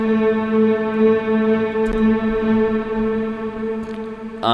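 Piano tone with delay effect and added reverb in a studio remix, sustained notes ringing steadily with a spacious room wash and faint repeating echoes, alone without talk.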